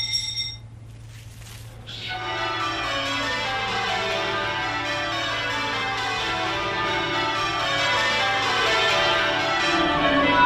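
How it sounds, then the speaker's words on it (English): Westminster Abbey's church bells peal as a royal party emerges, the change-ringing starting after a short pause and continuing as an overlapping cascade of bright tolls, loud and sustained. "And as the royals emerge, the bells are right on cue."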